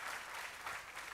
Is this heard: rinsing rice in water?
no